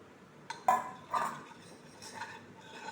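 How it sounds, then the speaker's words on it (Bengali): White cooking oil going into a wok, with a few metallic clinks and scrapes of a utensil against the pan, close and sparse over a quiet background. "কড়ার চারিধারে সাদা তেল দিয়ে দিলাম।"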